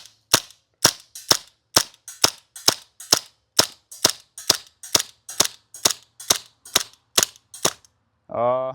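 A WE M712 Mauser airsoft pistol empties its magazine in about seventeen sharp, evenly spaced shots, close and loud, then falls quiet before a brief voice.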